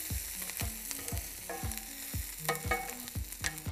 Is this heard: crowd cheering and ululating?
no